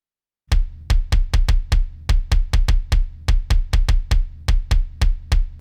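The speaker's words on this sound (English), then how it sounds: "So on its own, that kick drum sample that I chose sounds like this." A kick drum sample hit repeatedly in a quick, steady pattern, each thump deep and punchy with a short decay, no other sounds.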